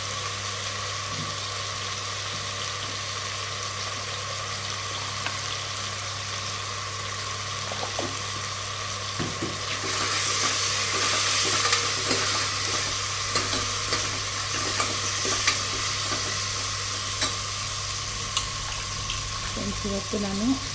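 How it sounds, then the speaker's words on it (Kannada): Oil tempering with mustard seeds, garlic, neem leaves, onion and tomato sizzles steadily in a pan, with occasional stirring clinks and a voice talking over it. "ಒಗ್ಗರಣೆಗೆ ನಾನು ಎಣ್ಣೆ, ಸಾಸಿವೆ, ಹಾಗೆ ಸ್ವಲ್ಪ ಬೆಳ್ಳುಳ್ಳಿ ಮತ್ತು ಬೇವಿನ ಸೊಪ್ಪು, ಈರುಳ್ಳಿ, ಟೊಮೆಟೊ, ಸ್ವಲ್ಪ ಉಪ್ಪು ಮತ್ತು ಅರಿಶಿನ ಹಾಕಿ ಬೇಯಕ್ಕಿಡ್ತೀನಿ"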